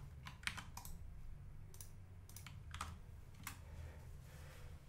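Short bursts of keystrokes on a computer keyboard while naming a new folder, quiet and close, with clusters of clicks separated by brief pauses.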